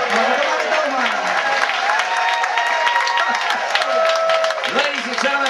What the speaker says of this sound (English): please keep that applause going one more time